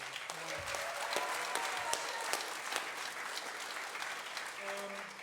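Audience at a university senior music recital claps in sustained applause, a dense, even patter throughout with faint tonal hints beneath.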